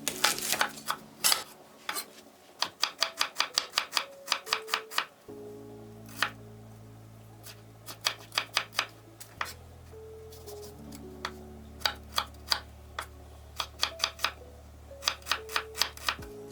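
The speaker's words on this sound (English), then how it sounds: "I'm gonna cut some onion." A knife chops onion on a board with a string of crisp, evenly spaced knocks that come in quick bursts, heard close and fairly faint over a low background hum.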